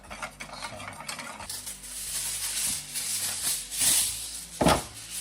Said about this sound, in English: The reason I've gone to a bigger pan is so I can get a better stir on it using a whisk